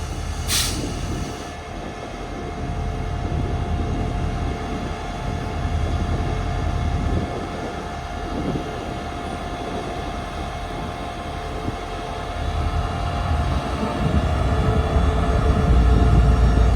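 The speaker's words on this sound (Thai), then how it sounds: "เสียงเครื่องยนต์เงียบมากเลยนะครับ" QSR 5208 locomotive hauling the Thaksinarath special express train through a curve at Ban Pong, with a steady loud rumble of engine and rolling wagons that swells slightly toward the end. No voices are heard.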